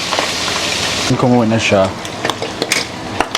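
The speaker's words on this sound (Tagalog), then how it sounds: "Takpan ko muna siya ng konti kasi tumatalsik siya." Hot cooking oil spits and crackles in a pan while pinakbet cooks, with a broadband sizzle that drops when the pan is partly covered, then scattered sharp pops; someone speaks briefly over it.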